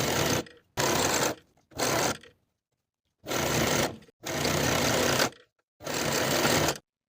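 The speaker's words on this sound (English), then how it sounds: "Sew from one end to the other with a 5/8 inch seam allowance" A sewing machine stitches a jacket sleeve seam in six separate bursts of close, loud mechanical whirring, each lasting about a second, with silent gaps between them.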